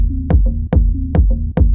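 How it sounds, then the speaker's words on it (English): A filtered-down chord stab sample repeats about four times in a bouncy, syncopated techno groove, with muffled, low-passed chords over a thumping low end, loud and upfront. "It's like filtered chord stab, you know, and when it's filtered down"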